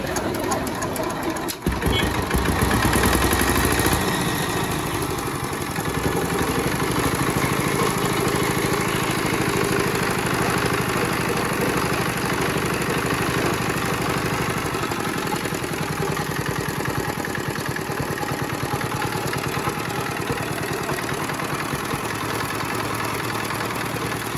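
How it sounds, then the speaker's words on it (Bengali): An old China CD 5 HP diesel engine coupled to a 2.5 inch pump starts with a sharp burst. It then runs with a loud, steady, rapid chugging drone that holds without a break to the end. "চলুন আপনাদের প্রথমে ইঞ্জিনটা স্টার্ট করে ইঞ্জিনের সাউন্ড কোয়ালিটিটা শোনাই"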